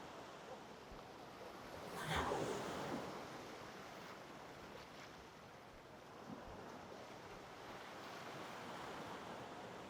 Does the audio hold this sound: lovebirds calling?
no